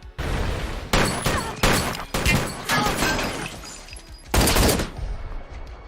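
Loud gunshots ring out in a film fight scene, several sharp cracks with scattered debris sounds, one heavy blast near the end, with no talk over them.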